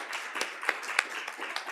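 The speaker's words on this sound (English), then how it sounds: "we need to give him a round of applause" A smattering of hand claps, uneven and moderately close, like a small group applauding briefly with no voices.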